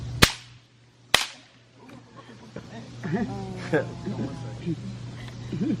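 Two sharp pistol cracks ring out in a staged duel, the first loud and the second a moment later, each followed by a brief echo, before people start talking.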